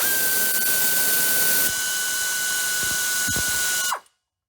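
A socket wrench works a 10mm bolt loose from the oil pan of a 2004 Honda Civic with a 1.7L engine, making a steady mechanical whir with a high ringing tone before cutting off abruptly.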